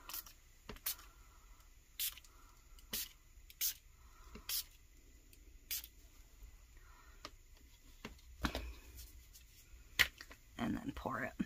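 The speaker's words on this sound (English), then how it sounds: "kind of lightly spray." Several short, crisp spritzes from a small mini mister spray bottle lightly spraying a trinket box mold, spaced a second or so apart, close and light, then a brief rustle at the end.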